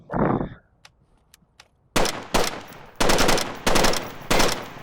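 A Volk Specialist gun in a video game fires loud, close full-auto bursts: an opening burst, a pause with a few faint clicks, then several sharp rapid bursts in quick succession.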